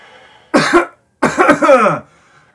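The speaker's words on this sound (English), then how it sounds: "You seen a doctor about that cough?" A person coughs loudly and close: one harsh burst, a brief pause, then a longer rasping fit of coughing and throat clearing, heard alone.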